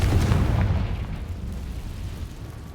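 Confringo blasting spell from Hogwarts Legacy going off as a deep, rumbling explosion that booms loudly at first and then rolls on, slowly fading, with no voices.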